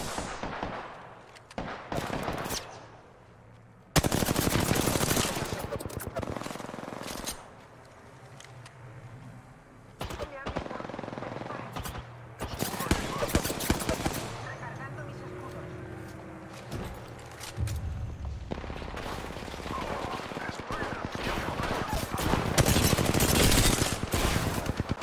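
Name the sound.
shotgun gunfire in the video game Apex Legends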